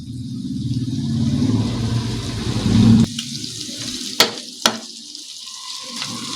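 Mutton frying in a pan gives a loud, dense sizzle for the first three seconds, then drops to a quieter hiss punctuated by two sharp metallic clinks.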